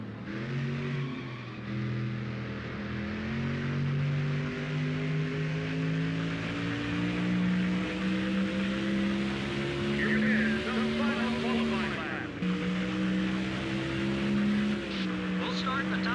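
A stock car engine drones steadily while racing at New Hampshire in NASCAR Thunder 04. The close engine pitch climbs gradually, dips briefly with a gear change, then rises again.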